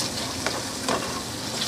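Vegetables sauté in a pan for spaghetti verde, giving a steady, close hiss of frying with faint stirring clicks and no talking.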